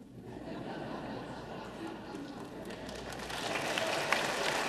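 Applause and crowd murmur spread across a joint floor session of the Oregon legislative assembly, starting moderate and building louder toward the end, mixed with faint chatter and a little laughter.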